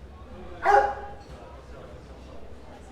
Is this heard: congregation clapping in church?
no